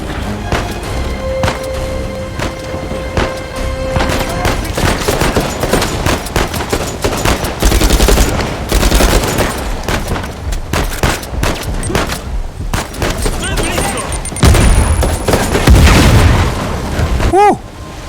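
Gunfire from Uncharted 4 rattles in dense, loud bursts of rapid shots and booms, nearly continuous with heavier blasts near the end, with occasional talk underneath.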